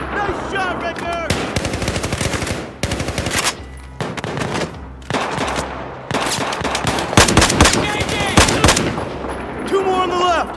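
Bursts of automatic gunfire and single shots crackle in Battlefield 4 combat, some rapid machine-gun strings separated by brief pauses, with in-game voices calling out between volleys.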